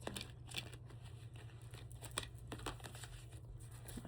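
Faint, quick riffling and flicking of playing cards being shuffled, soft papery clicks in an irregular stream against a low background hum.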